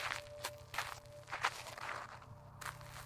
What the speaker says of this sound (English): Footsteps. Not boots, not shoes. Bare feet. Fast, light, and wrong.